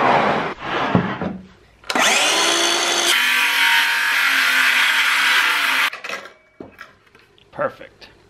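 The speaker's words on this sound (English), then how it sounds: "let's make a spatula out of some of this rough sawn cherry. I'm gonna cut this piece off right here," A power saw cutting rough sawn cherry wood for a spatula, a loud sustained whine for a few seconds, bracketed by handling knocks and clatter.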